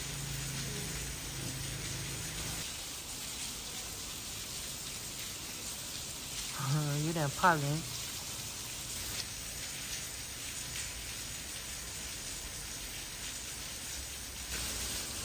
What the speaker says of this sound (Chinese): 今天这个雨是真大呀，哎呀，跟泼水一样